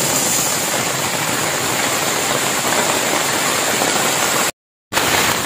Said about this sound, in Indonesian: Oke kawan, ini hujan masih lanjut